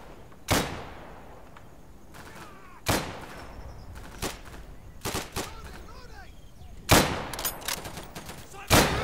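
Gunfire and artillery blasts in a shooting video game, with sharp, loud reports arriving in irregular bursts over several seconds, spaced by quieter gaps filled with low rumble and faint background chatter.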